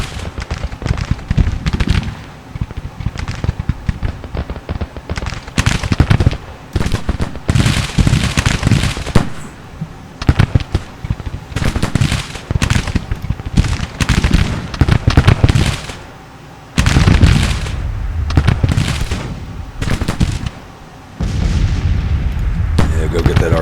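Civil War artillery firing canister in Grand Tactician, a series of loud cannon blasts and crackling volleys in bursts separated by short lulls, with some voices mixed into the battle din.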